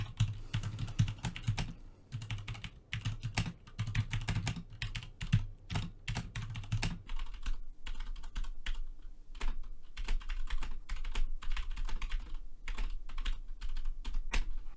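Steady typing on a computer keyboard, recorded up close as a microphone sound comparison, with dense rapid key clicks continuing throughout and no talking.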